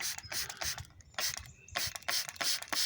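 Hissing bursts of coil cleaner from a spray bottle, a high-pressure mist of fine droplets aimed at an HVAC coil, several short squirts in quick irregular succession with brief pauses between, close and fairly crisp.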